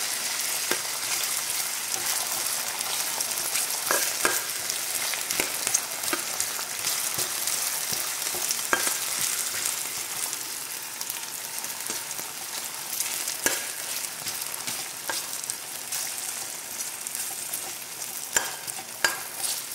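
Sardines frying in a pan, a dense continuous sizzle with a spoon stirring and scraping now and then, close and without talk.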